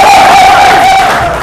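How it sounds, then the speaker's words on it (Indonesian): A classroom of students lets out a loud, close, sustained collective cheer, a brief shouted whoop from the group that fades slightly toward the end. "Wah, tepuk tangan dulu."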